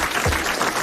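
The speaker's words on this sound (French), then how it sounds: "vous allez applaudir comme il le mérite" Brief burst of audience applause for a guest on a 1983 French radio show, a dense close patter of clapping lasting under a second.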